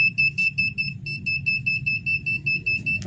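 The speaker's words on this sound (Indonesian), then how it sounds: "Akan mengaktifkan buzzer ya sama lampu." Buzzer on a DHT11 temperature sensor circuit controlled through Node-RED, sounding a rapid repeating high-pitched electronic beep pattern that stops abruptly at the end, over a low background hum.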